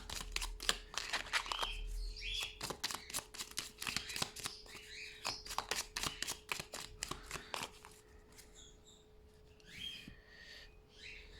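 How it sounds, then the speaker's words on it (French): Oracle cards are shuffled and drawn from a deck, giving a burst of rapid, crisp riffling flicks that later thin into sparse slides, with birds chirping faintly in the background. "Alors, pour ce faire, je vais piocher 3 cartes."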